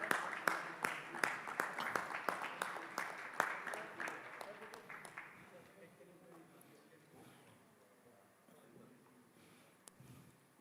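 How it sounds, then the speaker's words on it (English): A conference audience at Blockchain Dubai 2021 gives a round of applause, opening with sharp, distinct claps that thin out and fade after about five seconds, leaving quiet room noise and a stray clap near the end. "Round of applause,"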